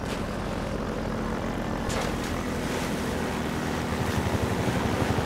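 A steady, droning helicopter engine roar with a chopping rotor rhythm holds throughout, loud and continuous, no voices, in Half-Life 2 co-op.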